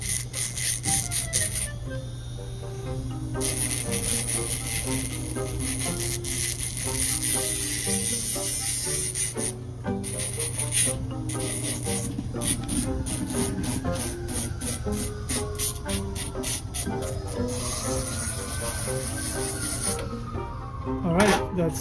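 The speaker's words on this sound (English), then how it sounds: "I'm gonna use a grinder to put some grind this, put some marks in here" A grinder scores marks into metal while a jewelry sandpaper roll is being made. It gives a whining, rasping grind in repeated bursts with short pauses, and the pitch rises and falls as the pressure changes.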